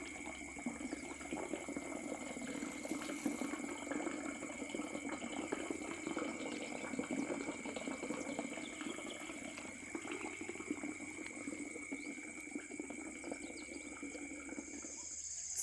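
A farm borewell pump runs steadily, pushing water with a continuous churning, bubbling rush and a constant mechanical whine layered above, at even loudness throughout with no one talking.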